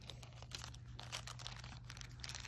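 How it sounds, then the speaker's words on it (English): Scissors cut the top off a plastic bag, making a faint, close series of crinkling and rustling snips under a steady low hum. "cut the top off this plastic bag"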